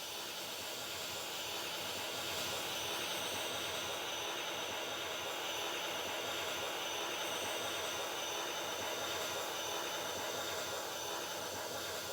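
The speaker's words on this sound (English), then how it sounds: "So I'm going to play the pink noise and then adjust the volume in real time" Steady broadband pink-noise hiss fills the whole stretch at an even level, a continuous test signal played through a speaker with no voices.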